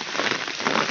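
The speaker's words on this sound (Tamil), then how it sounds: "செம மழை, காலையிலலாம் இப்போ மழை அதிகமாக இருக்குது." Heavy rain from a cyclone in Chennai pours steadily, a dense close hiss of drops on surfaces with no voices.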